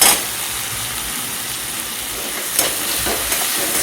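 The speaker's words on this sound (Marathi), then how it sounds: "तर आपण ह्याच्यामध्ये आता टाकलाय कांदा, जिरं, मोहरी आणि कढीपत्ता मिक्स करून घ्यायचं चांगलं" Chopped onion, cumin, mustard seeds and curry leaves sizzle in a pan for a Maharashtrian shev bhaji, a loud steady hiss with a few faint stirring knocks.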